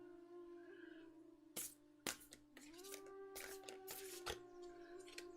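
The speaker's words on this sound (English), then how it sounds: "So we're just going to shuffle up the cards here a little bit." A deck of playing cards is shuffled close by, with a few sharp riffling bursts and snaps over a steady tonal hum in the background, no talking.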